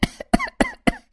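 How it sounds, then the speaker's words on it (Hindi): Four harsh, chesty coughs in a row from a cartoon villager sick in winter, close and loud with short pauses between each burst. "अरे मुझे तो इतनी ज्यादा खांसी हो रही है"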